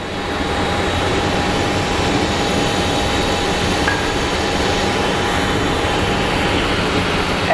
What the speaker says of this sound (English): a lot of the flights are going over the bridge for their departure